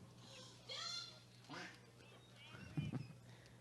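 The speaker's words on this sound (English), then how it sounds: "I love these new sound effects. We now have a duck." A duck-quack sound effect plays during a minor-league baseball broadcast of Jefferson City Renegades vs. Joplin Outlaws: a few short nasal quacks at low volume, followed by a brief lower honking burst.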